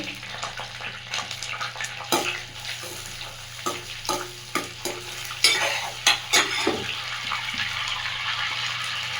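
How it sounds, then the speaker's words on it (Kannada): Shahi jeera and cumin seeds sizzling in hot butter for paneer butter masala, a busy close crackle with irregular stirring scrapes and sharp spoon knocks. "ಸ್ವಲ್ಪ ಶಾಯಿ ಜೀರಾ ಹಾಕ್ತಾ ಇದ್ದೀನಿ"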